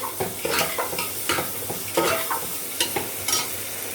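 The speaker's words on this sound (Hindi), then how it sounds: "अब हम इसको हाई हीट पे भूनेंगे" Chopped tomato fries on high heat in a pan, a continuous sizzle repeatedly punctuated by stirring scrapes and soft clatter of the spoon against the pan, close by and without speech.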